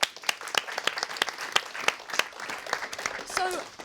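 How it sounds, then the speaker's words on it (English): Open evening audience at a broadcasting school gives a round of applause, a moderate crowd of hands clapping steadily for several seconds, with a voice briefly audible near the end. "Give him a round of applause"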